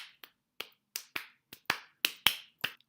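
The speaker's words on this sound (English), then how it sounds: "here I have a little recording of me clapping into the microphone" Nine sharp hand claps recorded close into a microphone, irregularly spaced, each a crisp dry transient with a brief tail, separated by silence.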